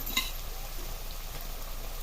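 Tempering sizzling in hot oil for a simple dal and pumpkin curry: an even, continuous hiss of frying with a brief clink at the start, moderately quiet and steady, no voices.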